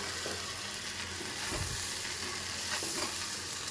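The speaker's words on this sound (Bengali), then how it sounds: "এরকম কম আঁচ করে একটু ভাজা ভাজা করব" Raw rice with sugar, salt and a little turmeric frying in a pan over a low flame, a steady close sizzle with a few soft stirring scrapes, no voices.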